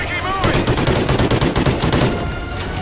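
Rapid automatic gunfire in the shooter game Call of Duty: Ghosts, loud, dense bursts of shots filling the whole stretch with hardly a break.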